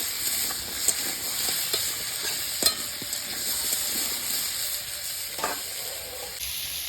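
Potatoes fry lightly with onions in oil in a pan, an even close sizzle broken by a few distinct spatula knocks.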